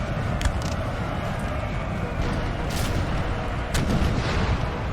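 Artillery booms and scattered gunfire rumble across a Napoleonic-era battlefield in a multiplayer Total War game, with a few sharp cracks standing out over a dense, continuous background of battle noise.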